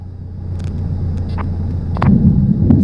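A Piper PA28 Warrior light aircraft touching down on a runway, a low continuous engine and rolling rumble that swells toward the end, with brief scattered clicks and thumps.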